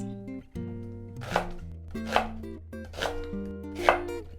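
A knife thinly slicing food on a board during African home cooking, a few soft, evenly spaced cuts under a steady bed of background music.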